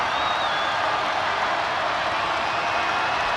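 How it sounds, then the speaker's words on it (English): An Auburn men's basketball crowd in a South Carolina arena at Columbia makes a dense, steady roar of cheering and applause that holds at full volume with no break. "the Auburn crowd in Columbia making some noise with Pringle at the line"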